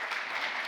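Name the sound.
audience applause for symposium speakers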